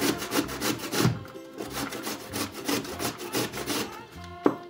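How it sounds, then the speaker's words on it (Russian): Carrot scraped on a coarse grater in repeated rasping strokes at a steady rhythm, close but fairly quiet, with a small knock near the end. "Для этого нам нужно натираем на крупной терке"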